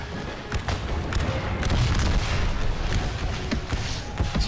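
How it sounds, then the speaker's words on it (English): Artillery in a Civil War battle video game fires and shells land in a steady run of booming thuds and scattered gunfire, loud and overlapping, with a busy battlefield rumble underneath. "I am seeing a lot of artillery hits today"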